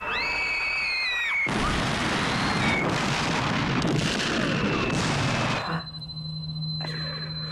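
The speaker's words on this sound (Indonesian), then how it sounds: "tentara Jerman meluncurkan bom bertubi-tubi di kawasan mereka" Loud, rumbling bomb blasts follow a rising whistle, with heavy sustained booms and debris noise before a quieter tail with a lingering tone.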